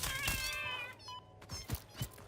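A spider creature in the Satisfactory video game lets out a cat-like meow, a wavering, drawn-out cry followed by a few soft thuds and clicks.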